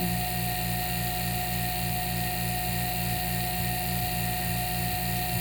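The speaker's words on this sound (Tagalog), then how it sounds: "patayin natin ang ating vacuum pump" A vacuum pump runs steadily while a refrigerator unit is evacuated for freon charging with a gauge manifold, giving a constant, droning motor hum with a faint, even pulse that does not change from start to end.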